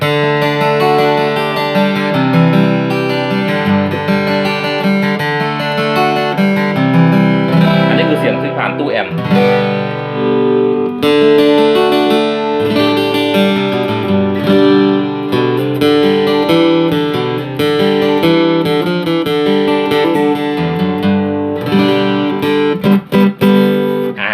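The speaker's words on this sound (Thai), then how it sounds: "อันนี้คือเสียงที่เล่นผ่านตู้แอม" A 91 Guitar PD15 solid-top acoustic-electric guitar played loud through an amplifier plays sustained chords and melodic runs, full and steady throughout, with a brief strummed flourish near the middle.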